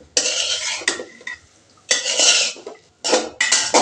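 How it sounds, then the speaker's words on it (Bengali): Cauliflower pieces and hilsa fish are stirred in a metal pan, the spoon scraping and clattering in three bursts of rough, close-up scraping separated by short pauses. "একটু নাড়াচাড়া করে নিচ্ছে"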